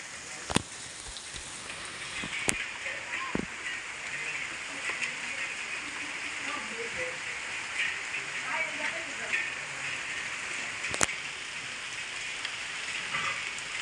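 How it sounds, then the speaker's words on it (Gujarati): Steady rain falls outside a house in the Gir forest, a continuous hiss of drops with a few sharp clicks and taps, while a voice talks over it at moderate distance. "જો વરસાદ ચાલુ થઈ ગયો છે અત્યારે ફૂલ।"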